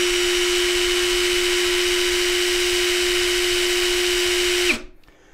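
An Ingco cordless rotary hammer drill, rated at 850 RPM, runs at a steady high speed in a no-load RPM test. It gives a loud, constant whine for nearly five seconds, then cuts off abruptly and spins down.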